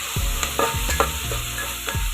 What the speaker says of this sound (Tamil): ஒரு கொத்து கருவேப்பிலை சேர்த்து நல்லா வதக்கிக்கோங்க